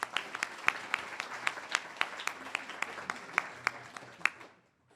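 An audience at an internal medicine graduation certificate ceremony claps for a new fellow, a steady patter of many hands with sharp individual claps standing out, lasting several seconds and then stopping abruptly.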